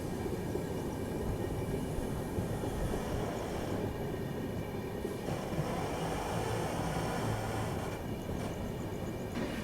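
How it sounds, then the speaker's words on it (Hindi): Continuous rumble and rushing noise of the Chennai Rajdhani express passing close by another moving train, a steady roar of wagons with wheel and rail noise throughout. "चेन्नई राजधानी क्रॉसिंग, चेन्नई राजधानी।"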